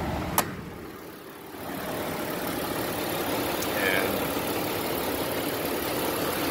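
A 2008 Jeep Liberty 4x4 engine idles quietly and steadily under an open hood, close by, with a brief click near the start and a single word spoken.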